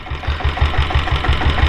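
A 1998 diesel Bullet motorcycle engine idles close by, loud and steady, with an even rapid thumping beat and no voices.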